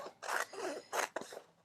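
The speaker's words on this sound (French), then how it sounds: "vous prenez une paire de ciseaux et vous allez découper" A pair of scissors cuts fabric pieces for an embellished quilt block, giving a few close, crisp snips and short scraping slices in quick succession.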